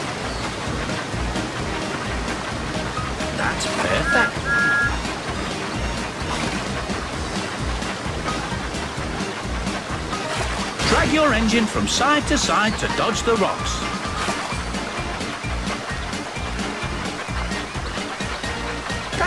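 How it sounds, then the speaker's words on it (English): Rushing water of the wild water slide at Splash Mountain in a Thomas video game, a steady surf-like wash that runs throughout under a voice speaking. "Help your engine avoid the rocks in the wild water slide of Splash Mountain."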